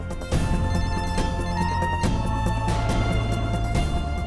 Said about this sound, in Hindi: मानवी please pick up the phone.